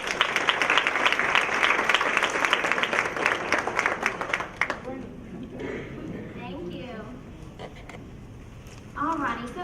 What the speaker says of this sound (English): y'all give her a nice round of applause